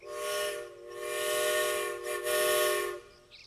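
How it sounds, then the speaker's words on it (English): A small train whistle blows steady and shrill in long sustained tones, briefly dipping and resuming, loud and close with no voices. "That's a little train whistle."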